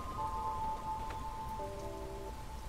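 Steady rain falls in the street-survival video game Garbage: Hobo Prophecy, a continuous hiss of drops throughout, with faint tonal game sounds layered over it and no talking.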